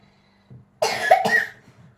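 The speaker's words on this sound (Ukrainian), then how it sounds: "Закривай ротик ручкою, коли кашляєш." A young child at home in a kitchen gives two quick, close coughs in a row, short and sharp, with faint background noise before and after.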